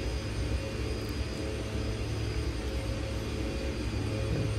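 A steady airplane engine drones in the X-Plane 10 flight simulator as the aircraft circles an island near St. Barts with the throttle pulled back, a continuous low rumble and hum filling the whole stretch with no talk.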